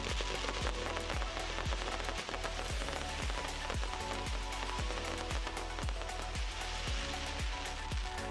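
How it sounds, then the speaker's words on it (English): A dense, rapid volley of 72 firework shots fired in fan formation pops in a steady rhythm for about 10 seconds, loud and continuous, like a finale with crackling between bursts. "Finale A rapidly fires 72 shots in fan formation, lasting 10 seconds."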